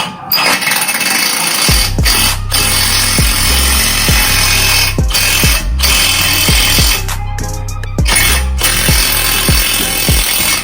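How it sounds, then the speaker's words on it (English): Power tool driving a fastener to pull a replacement wall stud into place, a loud close drill whine that runs in repeated bursts, stopping and restarting with ratcheting clatter between pushes. "now I'm going to get power tool and just try to, when I tighten this, it's going to pull that back, pull it in"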